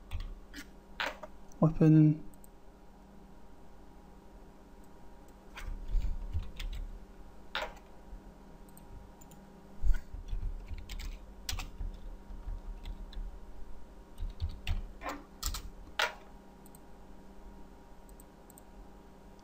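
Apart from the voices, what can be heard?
typing on a computer keyboard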